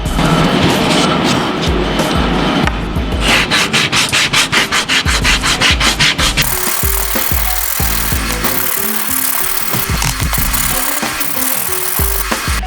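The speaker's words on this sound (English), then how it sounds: "it's time to switch over to some sandpaper. I'm going with some 80 grit." A wooden game board is hand sanded with 80 grit sandpaper, making loud, close, rhythmic rasping strokes, quick back-and-forth rubs at first that settle into longer scratchy passes.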